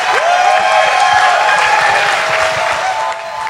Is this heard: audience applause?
yes